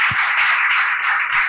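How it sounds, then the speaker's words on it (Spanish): An audience claps at the end of a talk on discovering galaxies, steady dense applause filling the whole moment at close range. "Y aplaudir."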